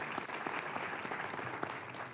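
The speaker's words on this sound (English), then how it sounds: "So you can clap to yourselves." Audience applause at an education summit in Istanbul: steady, dense clapping from a crowd, fairly even in loudness throughout.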